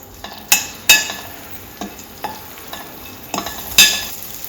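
Garlic and asafoetida fry lightly in oil for a tamarind-leaf pulihora, a soft sizzle under several loud, ringing clinks of a metal spoon against the pan.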